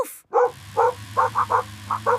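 A cartoon dog barks repeatedly, bright yips spaced through the moment at close range, with no one talking over them.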